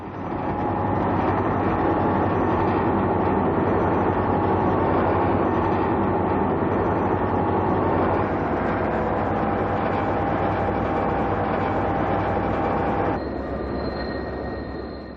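A diesel freight train rolls past for a long stretch, a loud steady roar of engine and wagons with a rumbling undertone. The tone shifts as cars go by, and a faint squeal rises near the end.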